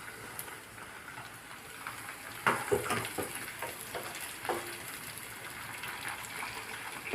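Sliced tomato and chopped green chili drop into a hot frying pan, setting off a soft sizzle with a few clattering bursts and light stirring scrapes over a quiet frying hiss.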